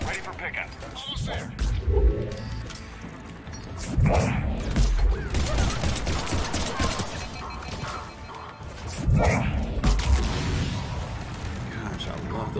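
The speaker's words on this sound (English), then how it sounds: "Gosh, I love those explosions." Booming explosions and bursts of gunfire crash repeatedly in a busy Mass Effect 3 soundtrack, with a voice talking over parts of the action.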